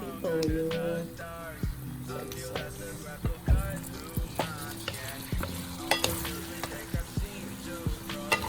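Pork sisig frying in a pan as soy sauce goes in, with busy sizzling and frequent sharp scrapes and taps of a utensil stirring, up close, under light background music.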